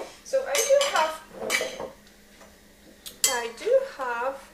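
Glass jars and metal utensils clink and knock in quick bursts while pickled mushrooms are packed in a home kitchen, with a voice talking over parts of it.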